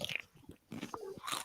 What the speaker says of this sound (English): Super Doctor's eating crisps.